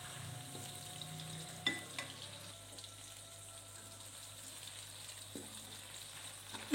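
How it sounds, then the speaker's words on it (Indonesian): Tomatoes sauté in oil in a pan for Padang-style green chili sambal, giving a quiet, steady sizzle with a few small clinks of stirring; no voices. "Kita tumis tomatnya sampai layu dulu,"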